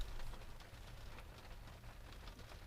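Rain falling outside makes a faint, steady patter with scattered drop hits throughout, and no voices.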